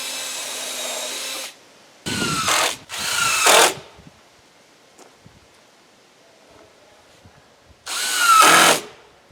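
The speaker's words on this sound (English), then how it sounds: "I have to drill some holes" A power drill bores holes into wooden deck boards while decking is installed, firing in several short, loud bursts separated by quiet pauses, with no talking.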